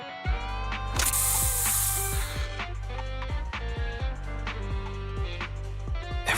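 A special Bangbu spray goes off in Zenless Zone Zero as a loud hissing burst lasting over a second, set among mechanical clicks and ratcheting game sounds and a sustained tonal drone.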